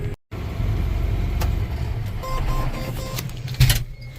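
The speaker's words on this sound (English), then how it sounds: "Sprayer goes fast. It goes 35 down the road." A self-propelled crop sprayer travels down the road at about 35 mph. Its engine and rolling noise make a steady, loud drone that cuts out briefly near the start, with a sharp clunk near the end. No one talks.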